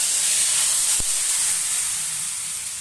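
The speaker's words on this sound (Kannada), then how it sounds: "ಇದೊಂದು ಸ್ವಲ್ಪ ಒಗ್ಗರಣೆ ಈ ಕಡೆ ಸೇರಿಸ್ಕೊಳ್ಳೋಣ" Hot tempering (oggarane) tipped into a pot of sambar gives a soft, continuous sizzling hiss at close range, with a single brief clunk near the start.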